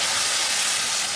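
Water poured into black cumin spice paste frying in a pan for a rohu fish curry with pointed gourd and yogurt, giving a loud, steady steam hiss and sizzle that carries on unbroken without any talk.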